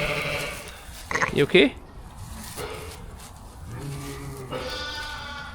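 A wee lamb with trouble in its legs bleats close by in a farm setting. One short wavering call is followed by another. Other sheep bleat faintly, and a person speaks briefly.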